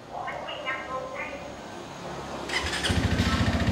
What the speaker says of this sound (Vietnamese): Máy ngon, máy còn mới mà nó êm ru à.